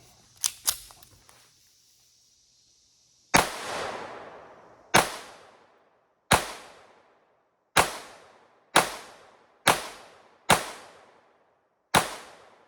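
A Colt Model 1903 Pocket Hammerless pistol fires aluminum-cased rounds outdoors, giving eight sharp, loud shots spaced about a second apart, each followed by a short decaying echo, after some faint clicks at the start.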